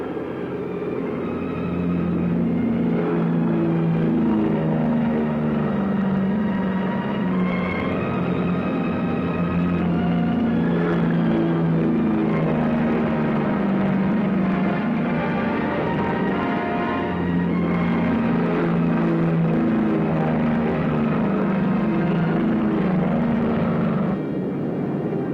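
World War II fighter planes take off, their engines at full throttle. The loud, continuous droning roar rises and falls for the whole stretch, with no break.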